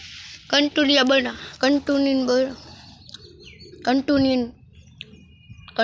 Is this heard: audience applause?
no